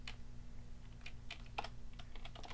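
Soft, scattered clicks of typing on a computer keyboard, irregular keystrokes over a low steady hum.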